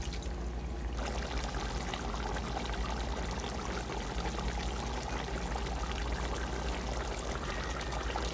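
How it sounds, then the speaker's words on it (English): Leftover coconut milk pours steadily into a pot of Jamaican stewed mutton with pumpkin, a continuous soft liquid stream lasting several seconds without talk. "A little bit of coconut milk what we had left from the turn cornmeal, we just have to add it into this, right?"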